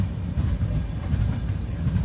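Sampark Kranti SF express train running between Tirupati and Kacheguda in Andhra Pradesh, heard from on board as a loud, steady low rumble and rattle of the rolling carriage.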